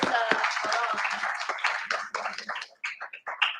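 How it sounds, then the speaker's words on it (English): A conference audience claps for the organizers, a moderate burst of applause that thins into a few scattered, separate claps over a few seconds. "maybe we can give a round of applause to the organizers"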